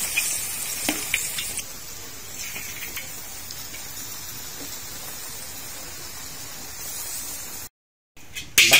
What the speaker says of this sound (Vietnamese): Chiên nó vàng mà vàng vừa thôi, đừng có vàng quá nó khô thịt gà của mình